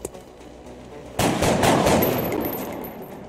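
Squad gunfire in XCOM Enemy Within erupts suddenly as a loud burst of rapid shots against aliens, then decays into a lingering rumble, with a quiet buildup beforehand.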